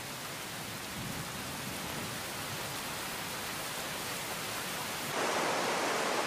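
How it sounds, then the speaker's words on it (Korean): Steady hiss of June rain falling over a forest during a thunderstorm, a dense, even wash of noise throughout with no distinct thunder crack, swelling slightly brighter near the end. "천둥과 번개를 동반한 비가 숲과 대지를 적십니다."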